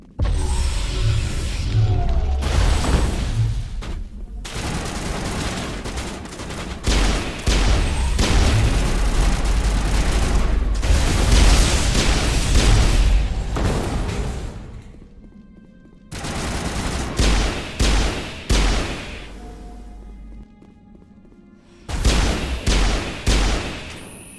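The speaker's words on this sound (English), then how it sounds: "Rude of you to shoot me as soon as I come in the doorway." Gunfire in the game Mass Effect, dense bursts of shots and booming impacts in several loud waves separated by brief quiet gaps.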